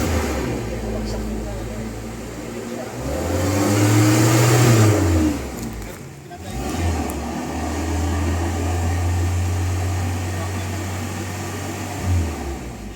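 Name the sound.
Toyota Revo engine idling unevenly, dirty throttle body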